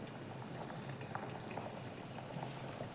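A pot of toor dal with ghol greens (purslane) boils steadily, a continuous soft bubbling and popping at low, even loudness throughout, with no voices.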